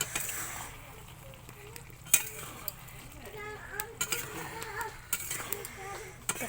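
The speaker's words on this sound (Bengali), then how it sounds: "দেখো এবারকে আমি একটু ভালো করে নেড়ে চেড়ে নেব।" Spoon scraping and clinking in a pan as a carrot and pea vegetable mix with coriander leaves is stirred, quiet irregular taps and scrapes over a soft background.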